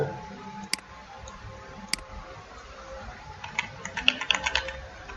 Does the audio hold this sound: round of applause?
no